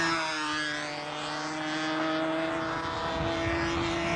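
A control-line model airplane with a propeller engine, racing in a 1994 Mass Cup event, drones in flight with a steady loud high-pitched buzz that rises and falls slightly as it circles, alone without voices.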